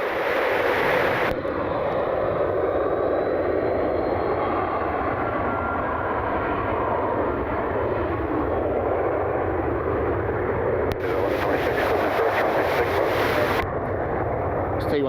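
A Boeing 747 operated by Atlas Air comes in to land at Cleveland Hopkins airport on a breezy day, its broad, steady engine roar filling the air continuously with a brief rise in intensity near the end, with no talk over it.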